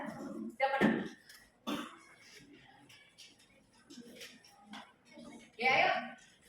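A child coughs a few times in a quiet classroom, with short separate bursts spread across the moment and faint shuffling and soft voices in between.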